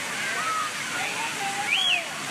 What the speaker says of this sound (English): occasionally water will spit right out of the mouth